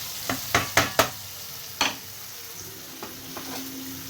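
Fried eggplant and potatoes are stirred together in a frying pan. A handful of sharp spatula knocks and scrapes ring out early over a low sizzle, followed by quieter stirring.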